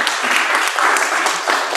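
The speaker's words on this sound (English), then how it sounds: "Let's give Ben a big round of applause for being our storyteller" Applause from a church congregation at a theater venue thanking a storyteller, brief dense clapping at close range, steady and loud with no voices over it.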